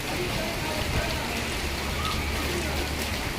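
Rain falls steadily outside a window, a constant close hiss of drops with no pauses.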